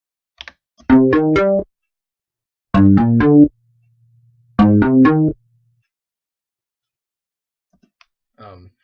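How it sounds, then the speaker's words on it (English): A woody, plucked Sytrus synth preset in FL Studio plays three short bursts of rapid repeated notes separated by silences, clean and fairly loud, with a faint low tone lingering between the second and third bursts. "using citrus, and the preset was wood"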